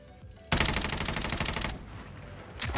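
A Groza assault rifle fires a long, loud automatic burst in Warzone, rapid shots running for over a second, followed by a short second burst.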